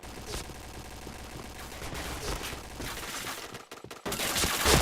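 Rapid gunfire from the Point Blank first-person shooter game, a dense, continuous fusillade of shots with bursts and brief gaps, loud and close throughout.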